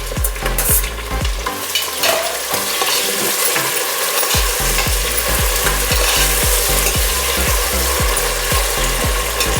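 Tomatoes frying in a pan for paya (trotter) soup, with a steady loud sizzle and repeated rhythmic scraping strokes of a spatula stirring throughout, no voices.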